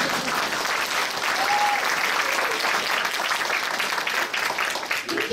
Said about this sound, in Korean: 이럴 때는 박수도 좀 치시고